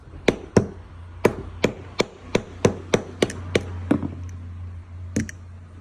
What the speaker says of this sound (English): you get a rubber end of a screwdriver and just tap the edges, and then it'll come off